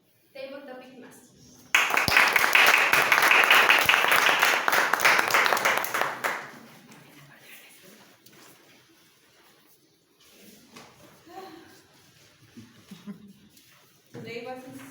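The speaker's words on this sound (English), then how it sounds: "Please give a big applause to Alejandra Oregel, Table Topic Master." A Toastmasters meeting audience breaks into a burst of applause lasting about four seconds, loud and close, bracketed by a speaker talking before and after.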